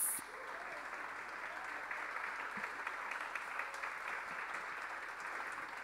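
Audience applause at the Yucatán state music composition award ceremony, the Premio Estatal de Composición Musical "Daniel Ayala Pérez": dense, steady clapping from a large crowd that holds at an even level for the whole stretch.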